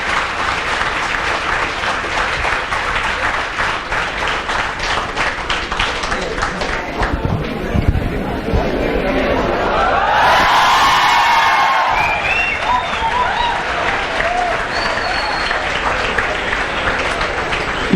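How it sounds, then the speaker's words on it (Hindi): A large audience at a teachers' session applauds loudly, sustained dense clapping with some whoops and cheers, swelling in the middle and continuing throughout without talk. "तालियां एक बार जोरदार उनके लिए।"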